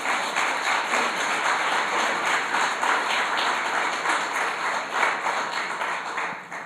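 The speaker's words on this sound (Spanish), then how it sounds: "Dale un aplauso al Señor" A church congregation applauds for the Lord during a Spanish-language worship service in Tucson, a continuous, even wash of many hands clapping from across the room at a moderate, steady level with no talk.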